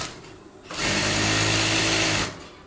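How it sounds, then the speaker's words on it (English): A sewing machine runs in a home workshop in Vietnam, giving one loud, close, rapid mechanical whirr that lasts about a second and a half before stopping. "he's back in front of a sewing machine"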